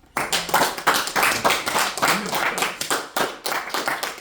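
A congregation at a church service claps in a steady rhythmic beat, a close, fairly loud series of hand claps with no talking.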